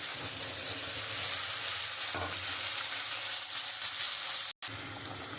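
Onion-garlic paste drops into hot oil with tempering spices: a loud, constant sizzling hiss that holds throughout, broken only by a brief cut near the end.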